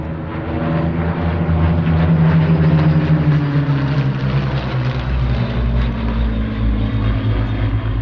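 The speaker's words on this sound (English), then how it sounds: "Lead aircraft is MH434, very famous, probably the most famous Spitfire actually." A Spitfire propeller fighter, one of nine flying at the Sywell Airshow, passes overhead with a loud, sustained engine drone that rises and shifts in pitch as it sweeps by, with no talk over it.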